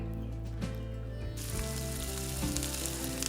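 Tomatoes, onions and cashews fry in a pan, a steady broadband sizzle that jumps louder partway through as more goes in, with a few soft stirring bumps and no talk.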